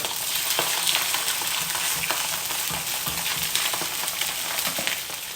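A branzino fillet frying skin-side down in a hot pan gives a steady, dense sizzle with faint crackles throughout, close and even in level.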